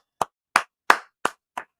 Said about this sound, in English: Applause to Chooch.